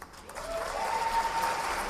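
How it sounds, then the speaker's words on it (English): Audience applause fills an awards-ceremony hall at the Golden Joystick Awards 2019, a steady wash of clapping held at an even level from start to finish. "Round of applause for not Aaron Greenberg."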